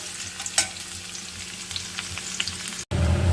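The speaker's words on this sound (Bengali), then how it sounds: "পাবদা মাছ আচ্ছা লাইট ব্রাউন করে নিচ্ছি দেখো" Pabda fish fry in a pan until light brown, giving a continuous close sizzle with small crackles and a brief stir, and no talking.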